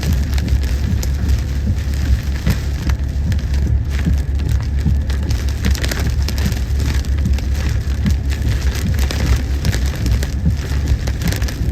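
Steady heavy rain pours down continuously, a dense unbroken hiss of drops hitting surfaces with no voices.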